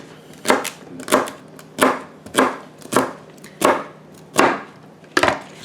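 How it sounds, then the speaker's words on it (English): Washed celery chopped into small pieces with a knife on a board, eight crisp, evenly spaced chops, close and clear, with no talk. "I cut the ends off, and I'm just going to chop it into some small pieces"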